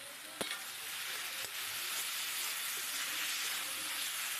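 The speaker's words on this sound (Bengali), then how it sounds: "এবার ভালো করে নেড়ে নিচ্ছি।" Chili pickle with yogurt and sugar being stirred in a hot pan, a dense steady sizzle and frying hiss with a couple of sharp spoon knocks early on.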